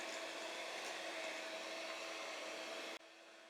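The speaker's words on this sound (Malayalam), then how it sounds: "ഇനി ഇത് ലോ സ്പീഡിൽ ഒരു 30 സെക്കൻഡ് ഒന്ന് ബീറ്റ് ചെയ്യാം" An electric hand mixer whirs steadily at low speed, beating plum cake batter in a bowl, a continuous motor hum with beater rattle that cuts off near the end.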